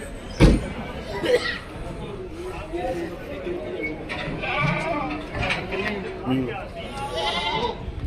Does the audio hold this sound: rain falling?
no